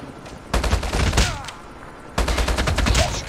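HBRa3 assault rifle in Call of Duty Mobile fires two loud, rapid automatic bursts close up, the first about a second and a half long and the second a bit over a second, separated by a short lull.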